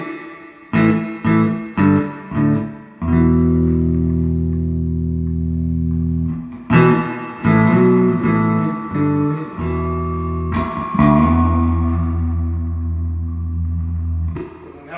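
A bass guitar played through a 1973 Fender Twin Reverb amp with its reverb on rings out in short plucked notes and long sustained tones, loud and close, with a lingering reverberant tail and no talking.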